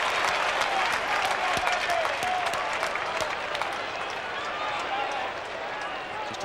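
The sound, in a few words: football crowd cheering after a goal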